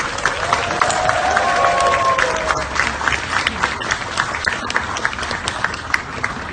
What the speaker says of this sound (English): Can we all have a round of applause and gratitude to Leader Pelosi?